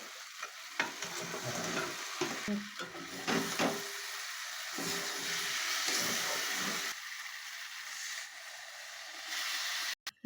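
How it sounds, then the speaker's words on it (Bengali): Vegetables with turmeric and salt stir-fried in oil in a pan for a Bengali home recipe: a steady sizzle with repeated scraping and clattering stirs, close and fairly quiet, ending in a brief knock. "যতক্ষণ এর থেকে তেল না বেরোচ্ছে ততক্ষণ এটা নাড়াচাড়া করে নিতে হবে"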